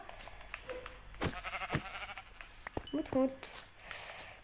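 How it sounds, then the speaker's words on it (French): A sheep bleats in a video game, giving a short, clear call near the middle. Game sounds clatter around it and a voice speaks quietly in the background. "Mouton."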